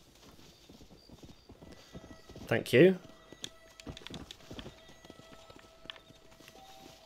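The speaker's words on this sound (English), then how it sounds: "My horse is running away." Horse hooves clopping in the Red Dead Redemption video game, a short burst of galloping thuds in the middle with a whinny-like accent. Someone talks over it.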